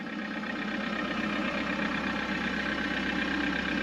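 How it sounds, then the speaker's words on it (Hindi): A Mahindra Scorpio Getaway 4x4 pickup idles steadily in a snowy Himalayan valley, a constant low engine drone heard up close with no break in rhythm. "So this is our Scorpio Getaway 4x4"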